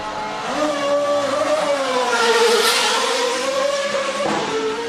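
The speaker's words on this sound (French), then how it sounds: "là c'est le V8 de Samy Guth qui vient de s'élancer" Samy Guth's V8 race car accelerates hard away at Abresch, its loud, close engine roaring continuously with a rising and falling pitch as it revs through the gears, and no talking.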